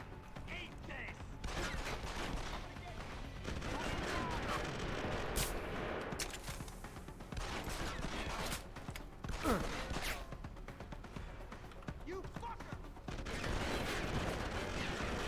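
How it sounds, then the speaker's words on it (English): Gunfire aimed at the player in Deus Ex: Human Revolution, with repeated sharp shots and bursts crackling through a dense, busy game mix over about fifteen seconds. "Stop shooting at me"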